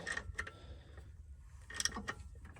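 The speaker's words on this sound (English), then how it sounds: "I went ahead and just put a ratchet on this torque converter bolts, and I just went ahead and spun it around" A hand ratchet turns the torque converter bolts on a 1999-2003 Ford F250/350 7.3 Powerstroke with a 4R100 transmission, giving a few quiet, scattered clicks and rattles with gaps of near silence between them.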